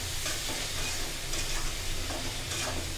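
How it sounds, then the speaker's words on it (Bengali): Dried loitta fish (shutki) stir-fried in a pan, a steady broadband sizzle with continuous scraping and stirring strokes throughout, close and moderately loud with no voices. "এখন খুব ভালোভাবে কষিয়ে নিব,"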